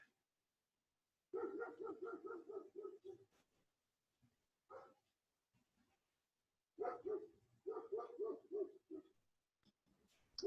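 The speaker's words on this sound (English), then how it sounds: "No, that is some neighborhood dog." A neighbourhood dog barks at a distance in two bursts of rapid, repeated woofs separated by a few isolated barks, fairly faint, with quiet gaps between them and no talk.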